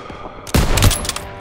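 Machine gun fire in the World War II shooter Call of Duty: WWII during a street battle, a sudden loud burst of rapid shots that rings out for about a second.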